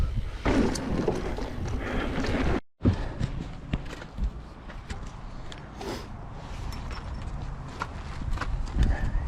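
Mountain bike rolling over a small wooden jump on a steep downhill trail, with irregular knocks and clattering thumps against steady wind rush, a brief dropout, then continued rumbling rattles as the ride goes on.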